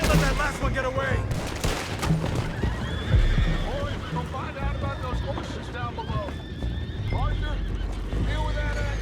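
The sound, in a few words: horses neighing in video game Red Dead Redemption 2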